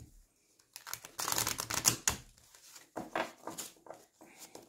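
A deck of oracle cards being reshuffled by hand during a spiritual card reading, heard as a run of quick crisp riffling and slapping bursts, close and moderately loud, repeating in short clusters with brief pauses and no talk.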